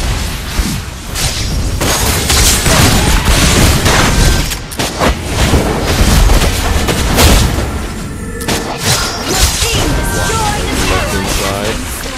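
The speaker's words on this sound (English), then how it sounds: "Your team destroyed the turret." A turret is destroyed in the Mobile Legends game amid a dense run of loud booming blasts and crashing impacts. Heavy layered battle noise continues throughout at close range.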